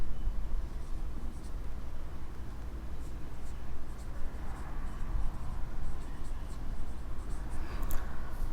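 A pen scratches across paper while working an accounts problem, a soft, irregular scratching that runs steadily throughout under a low background hum, with faint strokes and taps along the way.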